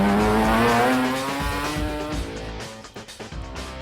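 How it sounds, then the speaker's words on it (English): A Ford Escort Rotary rally car at a forest rallysprint screams at high revs, then the engine note drops and crackles as it lifts off, loud and close with no talk. "he is retiring his trusty Escort Rotary and will miss the sound of this car in the forest"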